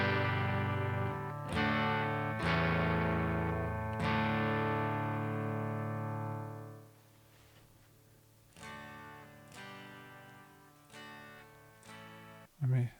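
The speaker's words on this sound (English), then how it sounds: "The next amp is, and it says Twin, which stands for Fender Twin Reverb." Electric guitar played through a Fender Twin Reverb amp model on an SP-404 MK2 sampler, several strummed chords ringing and decaying, then quieter plucked notes and a final soft strum, fairly faint.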